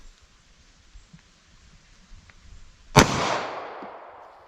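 A single sharp 9mm pistol gunshot fired outdoors, a loud crack followed by a long decaying echo over faint background noise.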